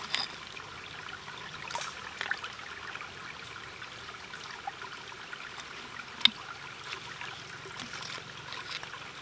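Creek water trickling and flowing over rocks in an Appalachian stream, a soft steady murmur heard close by with small splashes and no talk.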